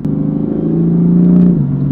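A 2017 BMW M4 Convertible engine gives a deep, steady rumble close by, swelling slightly before easing off near the end.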